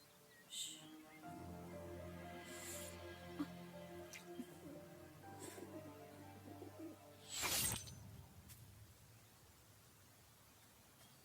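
An injured bird, likely a pigeon, coos softly in several low, drawn-out calls at moderate distance, with a sharper burst of noise near the middle and faint background hiss.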